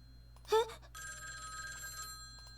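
A telephone rings, a steady electronic trill running for nearly two seconds after a short spoken sound just before it.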